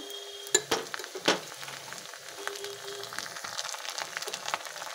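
Ginger-garlic and onion spice paste sautés in a pan, opening with a few metallic utensil clanks before settling into a soft, steady sizzle with light stirring ticks.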